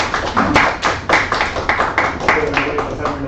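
At a seminar on additive manufacturing, the audience gives brief, scattered applause for the speaker. The uneven claps run under a voice that speaks throughout.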